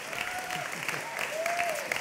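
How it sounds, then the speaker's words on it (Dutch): Studio audience at a Dutch talk show applauds steadily for about two seconds, a dense, even wash of clapping with a few voices calling and cheering over it. "krijg ik geen applaus van jullie?"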